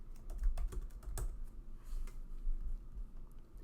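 Fingers tap quickly on a computer keyboard, a quiet, irregular run of soft clicks with a few sharper keystrokes, close by and with no voice over it.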